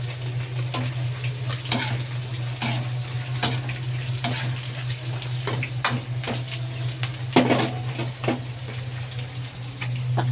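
Ginger, garlic and onion sauté with freshly added tomatoes in a home kitchen pan, giving a steady low sizzle broken by repeated sharp scraping stir strokes, close and moderately loud, with no talking.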